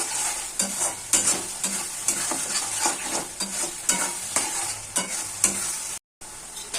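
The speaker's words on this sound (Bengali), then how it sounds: "লবণ, হলুদ আর লঙ্কার গুঁড়ো দিয়ে আবার ভালো করে কষিয়ে দিতে হবে" Spice paste with salt, turmeric and chili powder being stir-fried in a pan for an egg curry, with steady sizzling and repeated scraping stirs of a spatula, close and fairly loud, then a brief silent gap.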